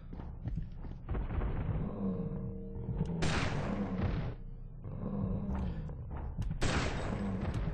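Shot pistols fire in the Fear Effect 2 video game: several loud bursts of gunfire in quick clusters, sharp cracks with booming tails, separated by brief lulls, close and dominant throughout.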